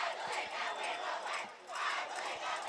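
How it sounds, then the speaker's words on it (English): A Fredonia student section at a varsity football game against Akron roars and chants in rhythmic waves, a dense crowd sound that swells and dips but keeps going, with no single voice standing out. "they're still here cheering loud, doing a little I believe we'll win chant"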